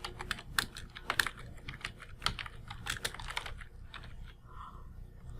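Computer keyboard typed in a burst of quick, uneven keystrokes with a few heavier presses like the enter key, close and fairly quiet, with no voices and a softer pause near the end.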